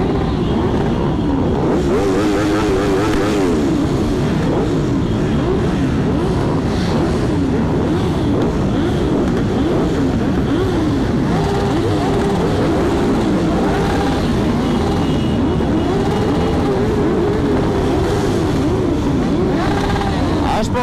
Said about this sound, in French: Les motos aussi, elles commencent à chauffer